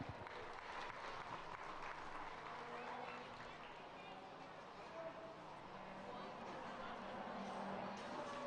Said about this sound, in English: Let's give our hands a round of applause for the young kids here as they round us out.